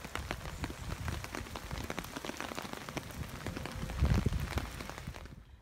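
A creek flows steadily after rain, giving a continuous close rushing and splashing of water with dense droplet patter and a slight swell near the end.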